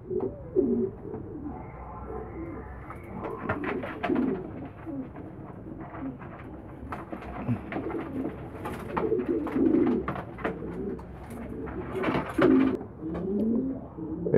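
Homing pigeons, young birds in a pen at a squab and youngster auction in Damietta, coo repeatedly with soft throaty warbling calls that overlap in irregular bursts, close and moderately loud, with no talking.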